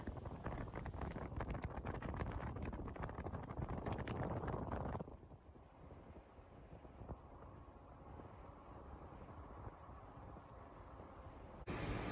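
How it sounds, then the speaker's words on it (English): Heavy wind on Padre Island by the ocean buffets the microphone with a loud roar for several seconds, then eases to a steadier, softer rush of wind. "Still very windy."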